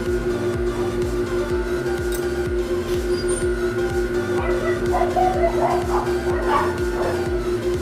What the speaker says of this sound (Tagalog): Siyempre, andyan na naman po ang mga extra kong mga aso.